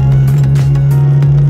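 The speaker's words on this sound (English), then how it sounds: "The cabin is quite loud. Like, I mean, hear it." Loud, droning cabin and exhaust noise from a car while driving, a steady low hum with a strong constant tone and no talking over it.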